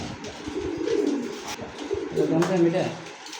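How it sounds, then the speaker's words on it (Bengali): A female pigeon coos nearby, low throaty rolling calls rising and falling over a few seconds, with faint background murmur. "এটা হলো মাদি কবুতর"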